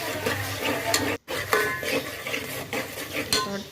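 Chopped onion frying in a pan as it is stirred for Indian masala rice, giving close, irregular scraping and clinks of a spoon against the metal pan over a low sizzle, broken by one short pause.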